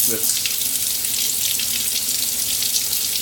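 Water rinses backward through a Mishimoto compact baffled oil catch can, giving a loud, continuous, close hiss and splatter of running water, like a tap spraying into a sink, with no pause.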